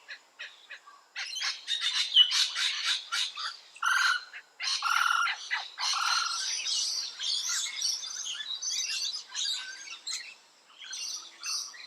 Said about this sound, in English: Its call is quite different to the laughing kookaburra, typically a loud rolling squawk and various loud yapping sounds.